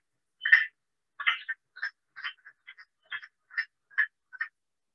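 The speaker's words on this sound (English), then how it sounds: "The good old American toad." An American toad calls alone in a series of short, raspy, clucking notes, about a dozen irregular bursts over several seconds, each brief and moderately loud against a silent background.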